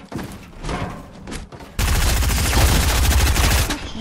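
Video game gunfire from a submachine gun and a pump shotgun, loud dense rapid automatic bursts that take over partway through and run unbroken to the end after scattered earlier shots.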